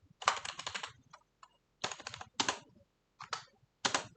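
Typing on a computer keyboard for a short HTML loading message, in close quick bursts of clicking keys separated by brief pauses.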